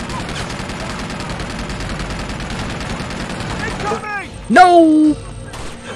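Sustained rapid turret gunfire in Uncharted 2 pours out in a dense, loud stream, then cuts off; someone shouts briefly just after, over quieter game sounds.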